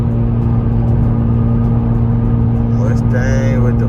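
Cars rev and race at night, heard from inside a Jeep: a steady, loud engine drone and rumble fills the whole stretch, with a higher whine rising near the end.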